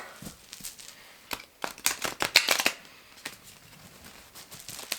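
A tarot deck is shuffled by hand in crisp, papery bursts: a quiet start, then a cluster of sharp riffling snaps in the middle, followed by lighter, scattered shuffles. No one speaks.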